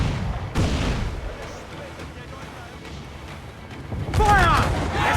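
Ship cannons fire in a naval battle game, giving heavy booming blasts with a rolling rumble under wind noise. Shouted voices cut in near the end.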